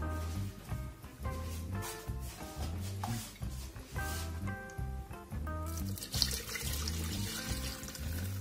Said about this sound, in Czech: přesto naleju ten vývar.